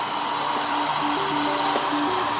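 Compressed air turned on at a sandblasting unit, a steady loud broadband hiss and hum with faint tonal whine, continuous and close.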